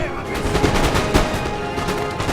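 Massed musket volleys from line infantry in the battle game Napoleon: Total War, a dense continuous crackle of overlapping shots with sharper reports standing out, steady and loud throughout, with no voices.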